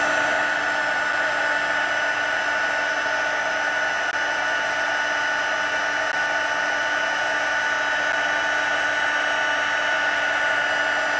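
A heat tool blows steadily and loudly as it melts gold embossing powder on a Stampin' Up! card, a constant whirring hiss with no talk over it.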